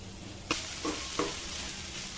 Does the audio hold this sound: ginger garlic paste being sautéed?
yes